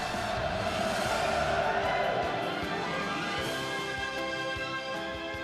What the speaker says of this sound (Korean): 원수님을 우러러 격정의 환호를 터쳐 올렸습니다